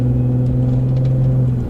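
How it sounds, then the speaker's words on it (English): A car cruising at steady speed on a highway during a used-car test drive gives off a continuous low engine and road rumble with a stable droning hum, heard from inside the cabin without talk. "So again, right now I'm driving normally"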